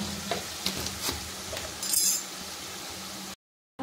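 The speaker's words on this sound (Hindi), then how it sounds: "देन देखिए इसको थोड़ा ऐसे चलाते रहेंगे बीच बीच में ताकि ये पक जाए" A spoon stirs a salted dal paratha filling in a pan, giving soft scrapes and light metallic clinks over a gentle sizzle before the sound cuts to silence.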